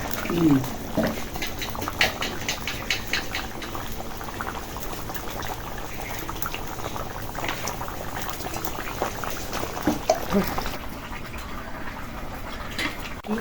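A pot of fish curry with bitter gourd, potatoes and tomatoes bubbling on the stove, a steady low simmer with popping bubbles throughout, while someone talks over it.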